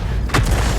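In a tank video game, a tank gun fires and scores a direct hit on an enemy tank. It comes as one short, loud boom over steady engine rumble.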